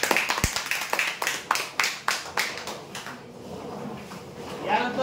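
An audience claps in a series of sharp, rhythmic bursts for winners of a prize draw, each clap ringing in the hall before fading into quieter room noise and a voice near the end.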